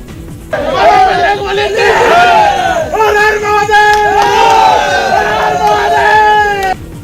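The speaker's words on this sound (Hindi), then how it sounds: "उन लोगों ने चैन की सांस ली और जोर जोर से नारे लगाने लगे।" A crowd loudly chanting slogans outdoors after pulling a bull from a well, strong unison voices rising and falling in repeated shouted phrases, close and energetic.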